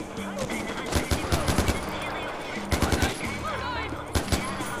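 Bursts of automatic gunfire in the video game Far Cry 4, several rapid volleys of shots over a steady game background, with someone talking in between.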